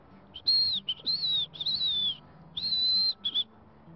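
Someone whistles an imitation of a killdeer call: several high, clear, slightly falling notes in quick bursts, near and alone.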